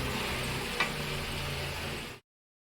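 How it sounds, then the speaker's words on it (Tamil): A kilo of chicken sautés in a pan for chicken kulambu, giving a soft, steady sizzle with one faint clink before the sound cuts off abruptly into silence. "இதை வந்து மிக்ஸ் பண்ணி ஒரு 2 மினிட்ஸ் வந்து வதக்கிக்கோங்க"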